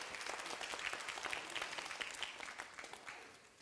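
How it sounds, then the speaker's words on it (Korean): A church youth congregation in Gunsan claps again for a children's performance, a soft, fairly distant and even patter of applause that tapers off at the end. "우리 다시 한번 우리 박수."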